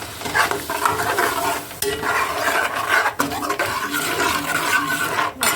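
A spiced water mixture poured onto tomatoes roasting in a pan, raising a loud bubbling sizzle with stirring scrapes that carries on throughout.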